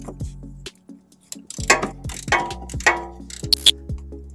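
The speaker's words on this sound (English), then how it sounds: "we'll go ahead and start with the 2 17 millimeter bolts" A ratchet works loose the 17 mm bolts on the tow hook of a 2006 Subaru Forester, giving close, uneven bursts of clicking and metallic rattling with short pauses between them.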